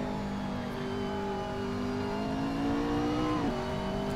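Race car engine accelerating through the gears on the Mugello circuit in a sim GT racing game, a loud, steady whine climbing in pitch with a brief dip near the end as it shifts, heard close and alone.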